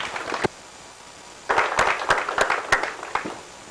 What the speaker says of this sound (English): I would propose we give him a round of applause first